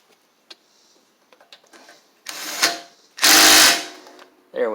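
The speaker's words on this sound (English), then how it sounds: "Let me grab that last bolt down there with this extension." A socket wrench on an extension tightens the last bolt on a Troy-Bilt Bronco Powermore engine: scattered light ticks and clicks, then two louder, close bursts of rapid ratcheting, the second longer and harsher.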